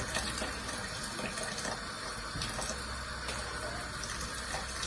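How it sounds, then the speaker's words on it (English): Boiling water pours into a pot of curry goat, a steady splashing trickle with faint clinks, quiet and close throughout. "So we're gonna add some hot water"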